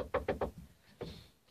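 Three quick, close knocks on wood in a tight even rhythm, followed by a fainter fourth tap after a short pause, with no talking.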